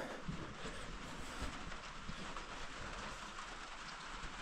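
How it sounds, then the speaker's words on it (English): Steady, soft rain hiss with a low rumbling undertone, continuous and fairly faint throughout, no voices. "It is actually raining outside, which is nice."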